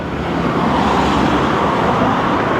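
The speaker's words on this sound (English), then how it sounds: "you don't get the same type of traffic here. You basically get mainly cars and then motorcycles, but mainly cars." Street traffic in Kuala Lumpur, mostly cars with some motorcycles, forms a loud, steady roar of passing engines and tyre noise with no pauses and no voices.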